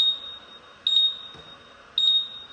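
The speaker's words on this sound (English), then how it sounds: "I reckon it's the stupid alarm that has something to do with it" An alarm in a workshop gives a steady high electronic tone, punctuated twice by sharper beeping bursts, loud and close with no voices.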